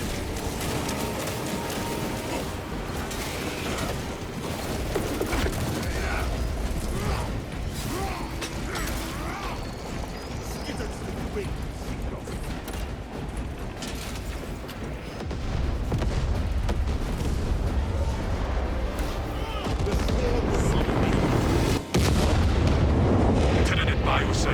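Battlefield chaos in Warhammer 40k Space Marine 2: dense, continuous explosions and gunfire roar loudly for the whole stretch, swelling heavier toward the end, with a voice talking over the din.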